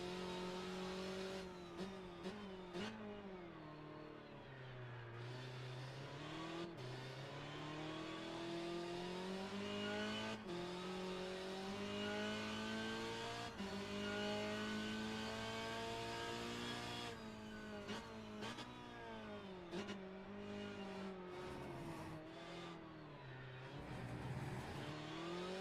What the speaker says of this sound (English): Here's the view from Sean Eric's cockpit in the number 29 Peugeot 406 STW RHD